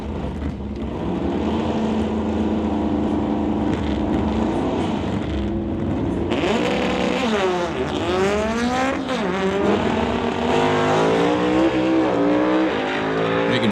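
A 1967 Ford and a 1971 Karmann Ghia race down a quarter-mile drag strip, engines roaring loud and close. Revs climb in rising and falling sweeps as the cars launch and shift, with no voices.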